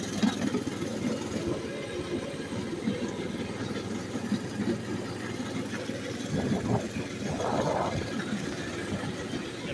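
A mini bike engine hums steadily at a low idle-like drone during a trail ride, moderately loud and continuous, with brief scraping and rustling bursts near the end.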